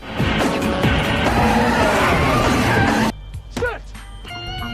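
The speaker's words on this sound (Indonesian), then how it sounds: "seorang pria bernama Brian sedang berlatih dengan mobil balapnya" A race car driven hard in a street-racing film scene, its engine roaring loudly with tires squealing and skidding, then cutting off abruptly into quieter tire chirps and a passing whine.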